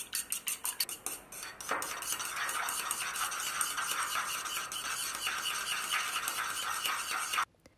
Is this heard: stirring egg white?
yes